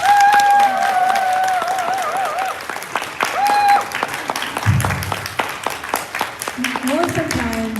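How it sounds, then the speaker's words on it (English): Applause from a conference audience, steady clapping under a speaker's voice, with brief whistles or tones cutting through. "Let's give them applause."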